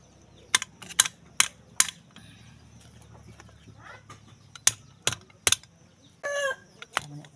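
A chicken clucks in short sharp bursts, with several loud, close calls spread over quiet background noise and a brief rustling stretch.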